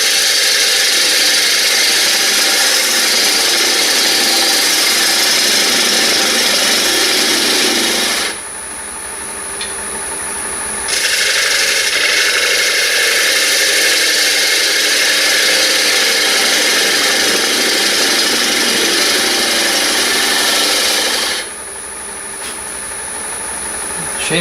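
A gouge makes a push cut on a wood lathe to even out the bottom of a turned bowl, a loud, steady rasping hiss over the motor's hum. The cutting drops away briefly twice and then resumes.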